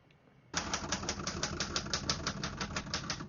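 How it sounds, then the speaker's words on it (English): Rapid, even keystrikes on a 1960s Remington Personal-Riter portable typewriter, a steady run of crisp clacks close up with no voices. "As you can see, all the keys type nice and none of them skip or stick."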